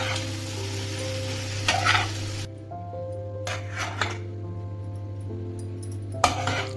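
A spoon stirs and scrapes potato palya in a pan over lowered heat, a steady close sizzle with soft scraping strokes and a few light clinks of utensil on metal, no voices.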